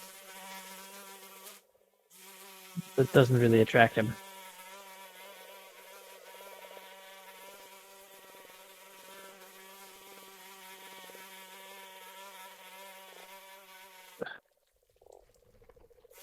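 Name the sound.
flies buzzing behind a door, tabletop game ambience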